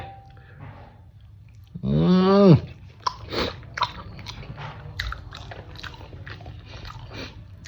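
Someone eats gulab jamun, with close, wet chewing and biting sounds after a short hummed murmur of enjoyment, over a low room background.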